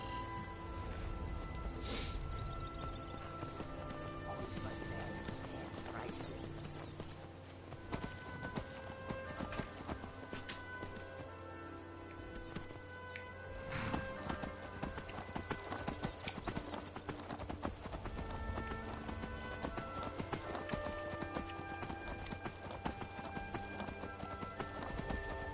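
Steady clip-clop of horse hooves runs throughout over a dense Skyrim game soundtrack with music and effects, with an occasional whinny.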